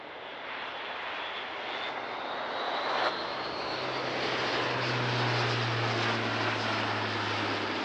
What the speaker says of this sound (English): Now we're seeing a steep climb in takeoff configuration, demonstrating the immense power delivered by its 8-bladed Europrop TP400 engines